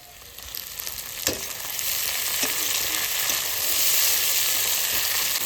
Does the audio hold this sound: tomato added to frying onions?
yes